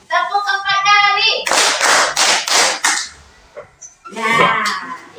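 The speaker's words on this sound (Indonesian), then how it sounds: "Tepuk empat kali." Students in a class clap hands in unison four times, making a crisp, loud, evenly spaced burst. Spoken instructions come before the claps, and voices follow afterward.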